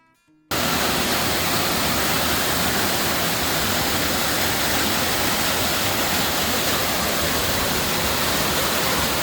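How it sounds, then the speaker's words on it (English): A waterfall at Five Springs Falls near Devils Canyon Overlook in Wyoming pours in a steady, loud, broadband roar that holds constant throughout after a brief quieter start. "But we could see a much bigger waterfall behind it."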